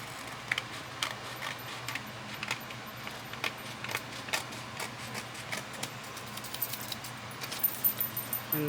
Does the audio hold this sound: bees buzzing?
no